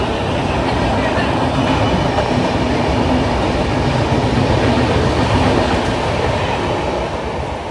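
A train runs near Nellore railway station with a loud, unbroken rumble and rattling wheel noise, heard close from on board for the whole stretch.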